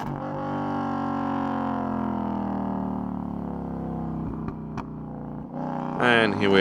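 A Lexus LS400 sedan drives a lap of the Nürburgring during a Karfreitag public session. Its engine holds a steady, loud drone from inside the car, the pitch sliding slowly, before a brief shift in the noise near the end.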